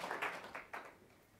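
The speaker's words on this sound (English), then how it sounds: "a round of applause" Audience clapping at the close of a talk at Sugar Creek Farms in New London, Wisconsin, in brief bursts that swell and fade over about a second, moderately loud, with no talk over it.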